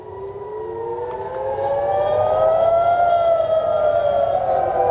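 A loud air raid warning siren in Israel, near the main port of Haifa, wails continuously, its pitch slowly rising and swelling, with no voices over it.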